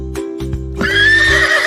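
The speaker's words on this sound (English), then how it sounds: "Let's neigh like a horse neigh." A single loud horse neigh rises sharply and holds, preceded by a few hollow clip-clop beats, close and clear.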